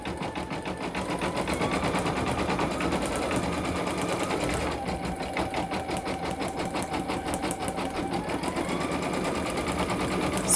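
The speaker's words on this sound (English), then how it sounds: "this last step is just going to be stitching her name out" An embroidery machine stitches a name onto a hooded towel, giving a steady, fast, close mechanical whirring and rapid needle clatter that runs continuously with a brief change in pitch partway through.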